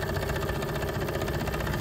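A small hydrogen-gas-fueled steam engine chugs steadily and evenly, a continuous mid-pitched mechanical running sound with a faint hiss, close and alone without any voices.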